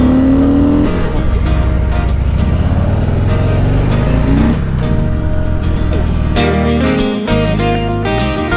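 A 2021 Harley-Davidson Heritage 114 motorcycle engine accelerating through the gears, a loud, close, continuous rumble whose pitch climbs and drops at shifts, with a sharp change near the end.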